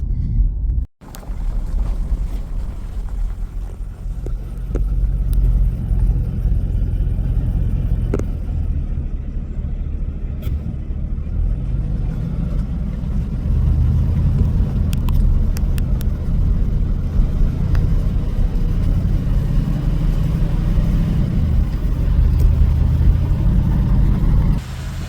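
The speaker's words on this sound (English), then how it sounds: "we baja these vintage motorcycles right up these roads" Vintage motorcycles ride along dusty roads with a continuous low engine drone and heavy wind buffeting the microphone throughout.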